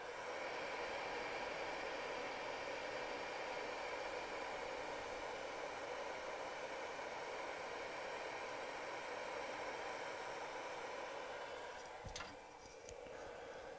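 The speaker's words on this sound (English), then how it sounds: "The fan's been running, and it's quite loud." Steady broadband whoosh of the cooling fan on a SounDigital SD 3000.1D EVO II car amplifier running on a test dyno, loud and continuous like a small hair dryer, with a brief click near the end and no talk.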